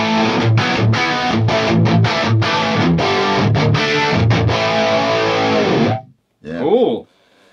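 Electric guitar in a 1980s rack rig running through Eventide and Lexicon effects units at once, a loud distorted chord riff with effected tails, then a brief pause and a short swelling note as someone speaks.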